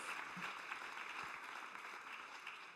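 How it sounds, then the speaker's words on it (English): An audience at an evening awards dinner on a summit stage claps for award winners, a dense, even wash of applause that holds steady and fades slightly toward the end. "Can we give another round of applause to our Innovative Color awardees?"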